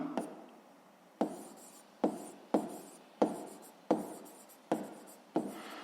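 A pen writing out a sixth-grade maths solution on paper, with about eight evenly spaced taps, each followed by a short fading scratch, close and quiet with no talking.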